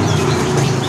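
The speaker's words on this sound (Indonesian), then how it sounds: "ini kalau yang ini dari burung murai nih" A Murai Irian songbird, a long-tailed bird offered at a Jatinegara bird market kiosk, calls amid dense market background noise, steady and fairly loud throughout the short moment.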